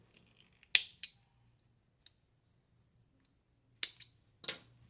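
Scissors snip through knitted jersey yarn while finishing a crocheted baby cotton-swab holder, giving a few sharp, close clicks with quiet pauses between them.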